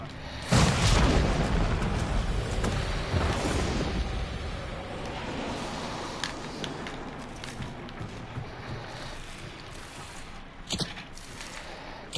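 A red barrel is shot and explodes in Hunt: Showdown, giving a loud booming blast near the start whose rumble fades slowly over several seconds, with a few smaller pops later on.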